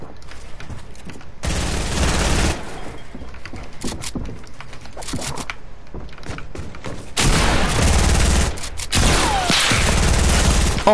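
Shotgun blasts in an online shooter game, heard as heavy booming bursts with crowded gunfire in between, loud and close, with a quieter stretch between two dense volleys and no talk.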